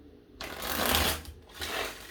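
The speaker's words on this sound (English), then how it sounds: "I'm going to give this 4 shuffles" Tarot cards are shuffled close up, a soft, rapid riffling flutter in two bursts with a brief pause between.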